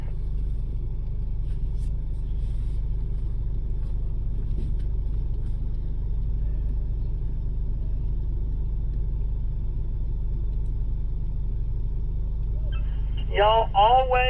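An off-road vehicle creeps down a hill on trail control, its cabin filled with a steady low engine and road rumble, fairly loud and unchanging throughout, with a short electronic chime near the end.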